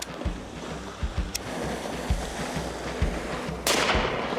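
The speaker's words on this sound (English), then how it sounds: "That second shot got him in the spine." Rifle shots fired at a charging hippo in Africa: several sharp, loud cracks at irregular intervals over steady wind and water noise, with one heavier blast near the end.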